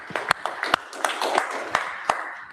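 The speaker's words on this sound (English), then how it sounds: "Round of applause for the University of Ottawa and the IBM Cyber Range." Scattered, sparse clapping from a small audience at a cybersecurity meetup, thanking the hosts with a few distinct claps rather than full applause.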